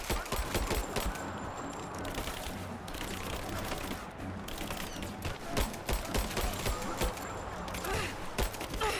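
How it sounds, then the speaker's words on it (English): Dense, sustained gunfire crackles through a noisy Rise of the Tomb Raider battle on Xbox One, with rapid bursts and sharp reports layered over a busy background din. "Where the hell is that gunfire?"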